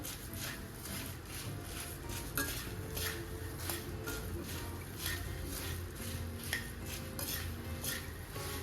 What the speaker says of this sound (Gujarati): અહીંયા મેં મમરા લીધા છે એ આપણે એડ કરીશું. અને આ રીતે આપણે મિક્સ કરી લઈશું.